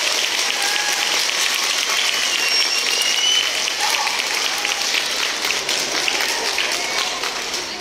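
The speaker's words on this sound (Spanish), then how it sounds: "fuerte aplauso" Sustained, dense applause from schoolchildren and adults at a primary school classroom inauguration, loud and steady throughout with no voices standing out.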